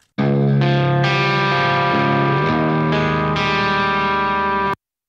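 Electric guitar with the delay plugin switched off, playing sustained chords with strong harmonics, loud and close, alone with no voices.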